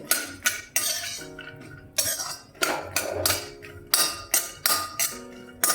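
Almonds being roasted in ghee in a pan, with repeated sharp metallic clinks and scrapes of a spoon against the pan in an irregular rhythm, close and fairly loud with no talking.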